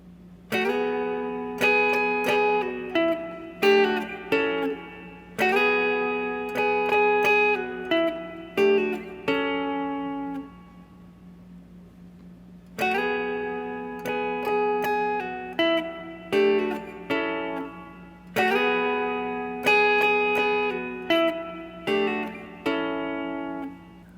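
Clean electric guitar plays a hybrid-picked triad riff in short repeated phrases, ringing notes with a brief pause midway, no talking.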